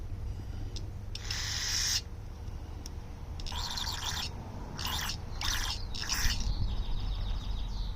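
Several short hissing spray bursts from a can cleaning a lawn mower, close by, separated by pauses over a steady low rumble, with a faint mechanical whine near the end.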